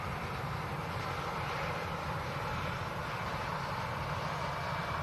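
An easyJet airliner departing for Paris, a distant dense steady engine rumble without clear rise or pass, faint and continuous.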